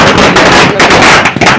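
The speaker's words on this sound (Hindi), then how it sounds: "इसी क्रम से मतलब एक एक पटाखों को जलाते हुए" Diwali firecrackers being lit and bursting outdoors, loud and close, with a dense crackling roar broken by several sharp bursts and buffeting wind noise on the microphone.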